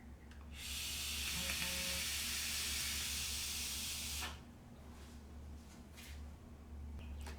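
Twisted Kanthal coil on a Dark Horse Mini RDA firing, a loud close hiss that runs for about four seconds and then cuts off, leaving faint quiet crackles after it stops.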